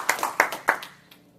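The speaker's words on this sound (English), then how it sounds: "So give yourself a round of applause." At an evening meeting, a few audience members clap sparsely: roughly four distinct, fairly quiet claps spaced evenly, fading out within a second and a half.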